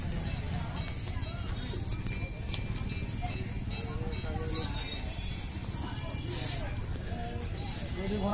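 Horse hooves clip-clop at a rural fair in a busy outdoor setting, a faint uneven patter of steps under steady crowd noise and conversation, with occasional bell-like rings.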